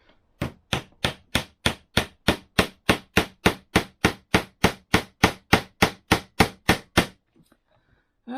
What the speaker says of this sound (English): using this thing as a hammer